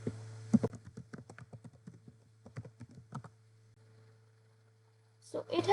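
Quick bursts of clicking keystrokes on a computer keyboard, a rapid run of taps followed by a pause and a few more, close and clear over a faint steady hum, with some louder rustle at the end.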